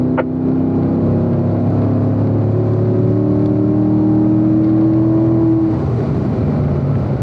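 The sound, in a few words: Corvette accelerating in fourth gear on race track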